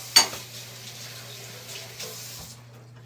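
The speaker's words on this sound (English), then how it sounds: "Gotta rinse out my hands." Tap water runs steadily into a kitchen sink as hands are rinsed during lasagna making, a close, soft continuous wash with a brief louder splash at the start and a low steady hum beneath.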